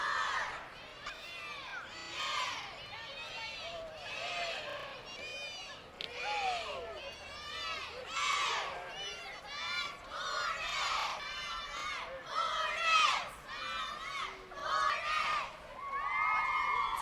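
A squad of Grove Hornet cheerleaders shouts chants while marching in a winter holiday parade in Ashland. Their young voices come in bursts, call-and-response cheers rising and falling over about seventeen seconds, with a moderately distant crowd murmuring beneath.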